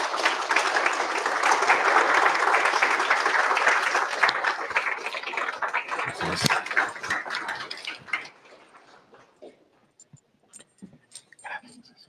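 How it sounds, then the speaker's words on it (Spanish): A church audience gives a loud, dense burst of applause that holds steady for several seconds, then thins out and fades into scattered claps and soft room noise. "le damos un aplauso"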